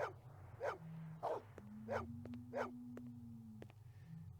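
Dog in the Blade Runner video game: five or six short, fairly quiet barks and yips spaced at a regular pace over a low hum, with a faint sustained whine in between.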